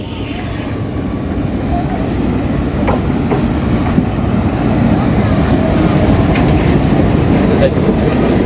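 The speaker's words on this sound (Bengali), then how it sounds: "এই একটি মাত্র ট্রেন এখানে থাকবে" A local passenger train on the Goalundo Ghat to Poradah line rumbles loudly at the old Jagati railway station, a continuous heavy roar with faint high squeals from the wheels.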